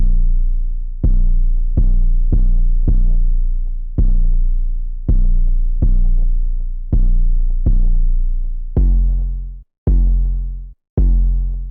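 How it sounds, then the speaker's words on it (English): Basic hoodtrap 808 bass pattern programmed in FL Studio: a dark, booming sub-bass line of sustained notes in a bouncy syncopated rhythm, loud and alone, with two brief gaps near the end. "That's the basic Hoodtrap 808 pattern."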